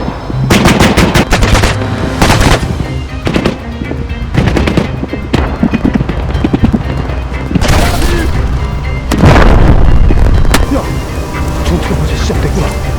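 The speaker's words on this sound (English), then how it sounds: "Firing!" Gunfire in a war video game set in a Ukraine versus North Korea battle: dense, loud bursts of automatic fire and booming shots, nearly continuous with brief lulls, while shouted voices come through the fighting.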